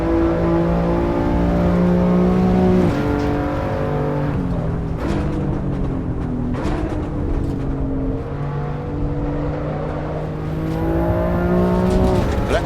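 A race car in the Assetto Corsa Evo racing game screams through its gears, a loud, continuous high engine note rising under acceleration and dropping at each shift, with brief lifts and tire noise, alone without talk.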